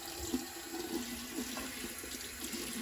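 Running water from a tap wetting a beauty blender makeup sponge with soap, a faint steady trickle and splash throughout with soft squelchy bursts, no talk.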